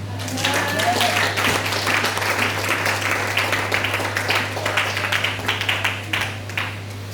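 Church congregation clapping and cheering in praise of Jesus during a French-language sermon, with broadband applause sustained across the clip, mixed with voices and a steady low hum underneath.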